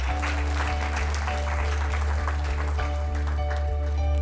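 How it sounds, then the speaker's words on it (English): Steady audience applause at a leadership talk session, dense continuous clapping over a constant low hum throughout. "all right, round of applause there."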